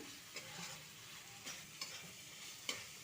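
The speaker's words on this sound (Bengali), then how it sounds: "কয়েক মিনিট ভালো করে মশলা কষে নিলাম" Spice paste being sautéed and stirred in a pan for dhokar dalna, a soft steady sizzle with a few light scrapes of the spoon, fairly quiet and alone.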